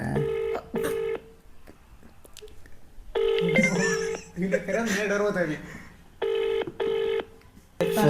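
A phone call rings back in repeated evenly spaced tone bursts, pausing for a stretch of talking and laughter before the ringing resumes, loud and close.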